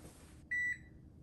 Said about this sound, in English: my timer is just about to go off